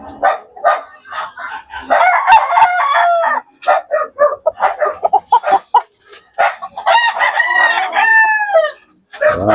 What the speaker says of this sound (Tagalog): Napakaganda mga manok ng San Pedro mga idol.